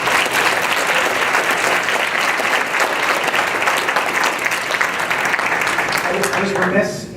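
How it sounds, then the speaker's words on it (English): A large audience at a health policy symposium breaks into loud, sustained applause, a dense wash of clapping that holds steady for several seconds before tapering off at the end. "Let's give him a round of applause."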